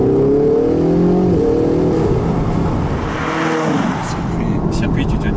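A car accelerates on a circuit, its engine revving up in rising tones and then whirring steadily while a cabin rumble fills the background. Voices may be faintly present under the engine.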